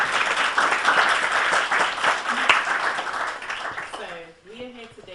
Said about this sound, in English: Can we give a big round of applause to